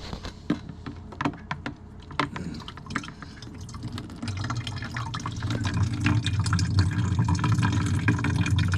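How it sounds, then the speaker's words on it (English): Homemade wine trickles by gravity through a siphon hose into a jug, a steady gurgling, dripping flow that starts with scattered drips and builds into a continuous close pour. "Now it's just gradually gonna gravity siphon"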